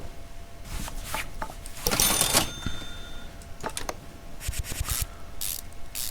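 Rapid ratcheting clicks from a ratchet wrench undoing bolts in Car Mechanic Simulator 2015, coming in several short bursts of varying loudness with brief gaps between them and no talk.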